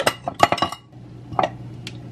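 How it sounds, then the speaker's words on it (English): A handheld vegetable chopper works through vegetables with a quick burst of sharp plastic-and-blade clicks, then a pause and a couple more clacks, all close by. "Look at how good it chops up the vegetables."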